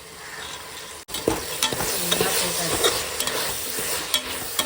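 Carrots, beans and green peas sautéing in a pan, a loud, continuous close sizzle broken by repeated stirring scrapes of a spoon, with a sharp knock at the start and no talking.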